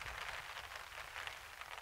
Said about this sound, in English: It's been raining since about 3 a.m.